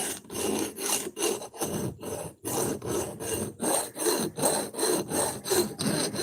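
An old metal file sharpening an axe blade in steady, repeated rasping strokes with short gaps between them, loud and close, with no talking.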